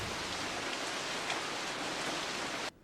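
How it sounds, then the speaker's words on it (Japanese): Rain falls outside in an animated scene, a dense, even hiss of drops that continues without letup, then cuts off abruptly near the end. "外は雨だぞ。"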